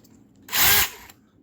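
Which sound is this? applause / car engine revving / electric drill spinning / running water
electric drill spinning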